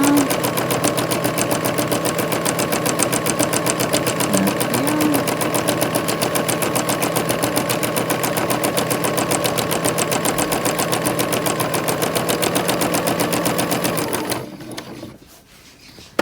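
A sewing machine running free motion stitching, a loud, close, rapid steady needle clatter that runs without pause for about fourteen seconds before cutting off, with no talking.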